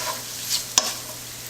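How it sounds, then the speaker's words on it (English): Flour cooks in a pan as the base for a sauce, with a soft, low sizzle and a brief stirring scrape, quiet and close. "I added flour. I'm cooking the flour."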